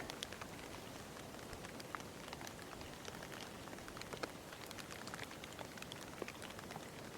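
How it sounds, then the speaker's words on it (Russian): Steady rain falls during a thunderstorm, a dense patter of drops on surfaces and puddles with scattered sharper hits, continuous and even, no thunder or voices. "Ну, с грозой, с громом дождь."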